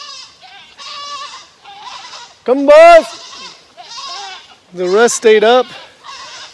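Goats clearing brush by a pond bleat loudly nearby in a couple of wavering calls, while someone talks in between and beneath them.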